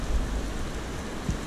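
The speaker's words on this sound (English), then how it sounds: "little rain shower, thunderstorm moving through here" Rain shower with a passing thunderstorm, steady broadband patter of rain close by with a low rumble swelling briefly, no voices.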